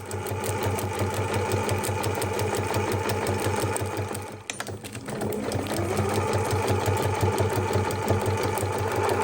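A sewing machine runs steadily while sewing an elastic casing on a harvest apron, a fast rhythmic needle chatter with a brief pause midway before a back stitch continues.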